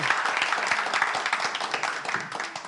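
Studio audience applause on a French television quiz show, a steady, dense patter of many hands clapping at moderate loudness without talk.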